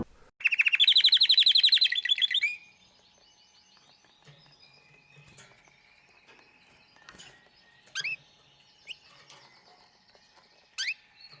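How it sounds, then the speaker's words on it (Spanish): A canary sings a loud, rapid trilling phrase, then falls to occasional short chirps and tweets scattered over a quiet background. "el canario se despertó y comenzó a cantar hasta en verso"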